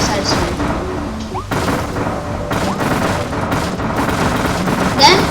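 In Kirby and the Forgotten Land, the Time Crash ability smashes through boxes in a rapid, noisy flurry of crashing bursts and booms over game music, with no one speaking.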